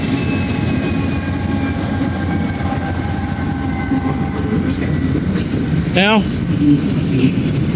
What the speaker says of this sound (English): There's all the couplers rubbing against each other. That's what that banging noise is.